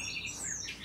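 Brief bird calls played from a bird video: a few faint, high squawks and chirps over low background noise.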